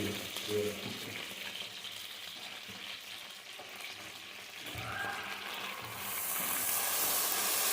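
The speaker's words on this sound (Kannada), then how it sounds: "ಬೆಣ್ಣೆ ಮೆಲ್ಕಾದ್ಮೇಲೆ ಅದರೊಳಗೆ ಒಂದು ಅರ್ಧ ಸ್ಪೂನು ಜೀರಿಗೆ" Cumin seeds sizzle in melted butter in a pan, a continuous frying crackle and hiss with light stirring, close-up, and the sizzle swelling louder toward the end.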